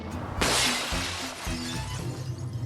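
Glass shatters in one sudden, loud crash, followed by a scatter of tinkling shards and rattling debris that fades over the next two seconds.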